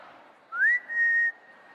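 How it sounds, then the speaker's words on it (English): A person whistles two short rising notes, clear and close, with quiet background between. "Thank God you can whistle"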